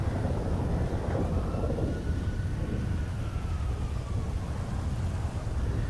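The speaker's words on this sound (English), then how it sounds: "So he makes the whole server suffer the fucking thunderstorm." Thunderstorm inside a video game, a continuous roar of heavy rain with low rumbling thunder, steady and loud throughout without speech.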